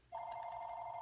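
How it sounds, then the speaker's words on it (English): Home landline telephone ringing indoors, a steady, loud electronic ring tone that starts abruptly and holds without a break, with no talking over it. "sorry about the phone ringing"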